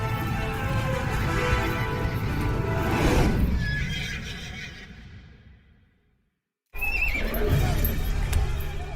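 A warhorse gives a long loud whinny, with hooves clopping beneath it, fading away to a brief silence before more hoof clatter and movement return.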